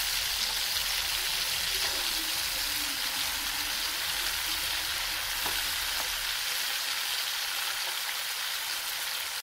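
Paneer pieces fry in a pan with a steady, dense sizzle that stays loud and even throughout, close to the listener.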